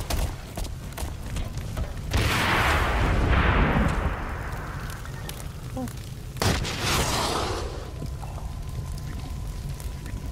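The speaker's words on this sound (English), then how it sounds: "I just need to see a firework." Fireworks go off in the shooter game Blacklight as two heavy, booming blasts a few seconds apart, each trailing into a hissing, crackling decay.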